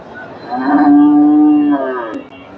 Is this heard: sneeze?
no